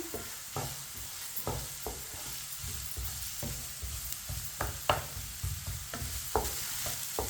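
Onions fry quietly in a pan, a low sizzle broken by repeated rhythmic scrapes and taps of a spoon stirring them, close and steady.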